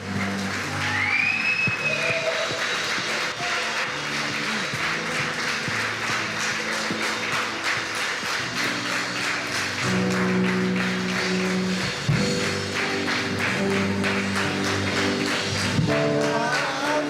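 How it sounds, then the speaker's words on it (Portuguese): Church congregation at a Christmas service giving a long round of applause, steady clapping from a crowd over soft background music, moderately distant. "Dá uma salva de palmas a Ele."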